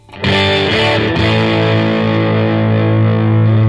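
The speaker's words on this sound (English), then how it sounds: "I want to add a little bit of drive. I use it a lot for chords." Overdriven electric guitar chords ring out loud and gritty, a strummed attack followed by a long sustained distorted chord.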